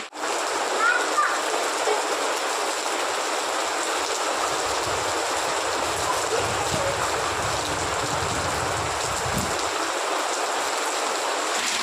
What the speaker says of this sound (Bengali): কি বৃষ্টি দেখো, ঝমঝম করে বৃষ্টি নেমে গেছে, যা মেঘ করেছিল, হাওয়াও হচ্ছে দেখো।